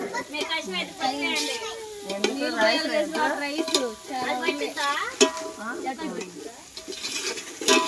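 Ginger garlic paste sizzles in a pot for biryani with curry leaves and mint stirred in, a soft frying hiss under steady conversational talk and children's voices nearby.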